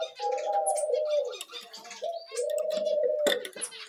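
A female pigeon with albino eyes coos in an exotic bird aviary: two long, low, resonant coos fill the clip, with faint chirps from other small birds behind.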